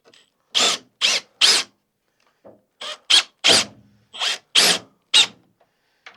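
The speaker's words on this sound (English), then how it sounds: "And just drive it through." A drill drives a screw fitted with a washer into a rolling drill press cabinet in about ten short, loud bursts that come in quick clusters of two or three, with brief gaps of silence between them.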